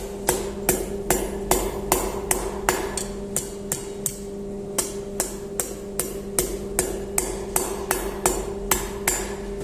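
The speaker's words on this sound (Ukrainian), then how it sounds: "І тепер ми беремо молоток і формуємо." A hammer strikes heated metal on an anvil while forging decorative ironwork, about twenty clanging blows in a row in a steady rhythm, close up over a constant low workshop hum.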